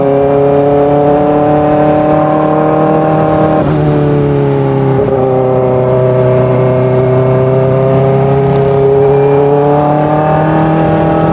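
A Kawasaki Ninja ZX-4RR motorcycle riding on a hilly road in Bulacan, its engine droning loudly and close with steady pitch, dipping briefly with throttle changes before climbing again.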